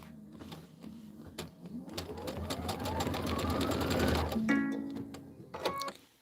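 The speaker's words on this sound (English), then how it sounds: "All right, let's stitch it out." A sewing machine stitches out quilt filler blocks in a steady, continuous run of rapid needle strokes. The motor whine rises in pitch across the stitching, then it slows and stops with a few short mechanical clicks near the end.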